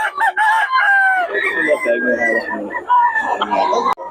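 A gamecock named Sweater Henny crows in long wavering calls with a few clucks, loud and close, while people talk over and around it.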